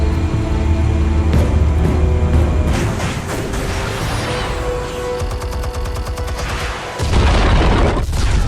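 Explosives detonating in Batman: The Telltale Series, loud booms and crackling bursts layered over a dense rumbling game soundscape, with a second heavy blast near the end.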